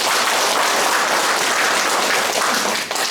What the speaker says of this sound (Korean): 다시 한번 박수 좀 부탁드립니다.